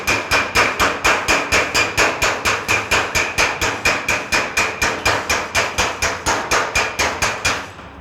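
Rapid, steady hammer blows knock high spots flat on a 1932 Ford metal body panel, about four strikes per second, close and loud with a ringing metallic edge, continuing evenly for several seconds before stopping.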